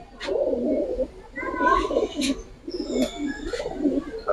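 Giribaz and colouring pigeons coo nearby in repeated low, throaty phrases, about four rounds with short pauses, and a few higher chirps mixed in.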